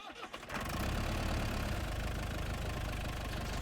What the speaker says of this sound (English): Stick the key into the ignition to turn on the machine.